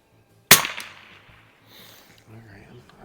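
A single sharp rifle shot from a 1968 Savage Anschutz 64 at an outdoor range cracks loudly and close, then decays away into quiet.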